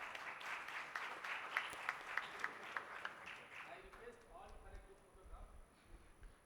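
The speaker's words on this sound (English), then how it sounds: "Please have a big round of applause." Conference audience clapping in a round of applause: a dense, crisp patter of many hands for about four seconds that thins and fades, with faint murmuring and low rumbles at the end.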